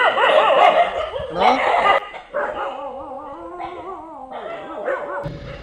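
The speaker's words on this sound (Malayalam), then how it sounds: "ഇപ്പോൾ രാത്രി കാഴ്ചയെ കാണുന്നത് കംപ്ലീറ്റ് നായ്ക്കൾ മാത്രമേ ഉള്ളൂ" Several street dogs bark and yelp at night in a loud, overlapping chorus, followed by drawn-out whining howls; the pack sounds close.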